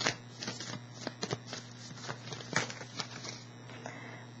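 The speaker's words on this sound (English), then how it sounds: "I'm gonna get one more card out of this deck." A deck of tarot cards is shuffled and drawn from up close, giving a quiet run of crisp, papery riffles and flicks with irregular taps over about four seconds.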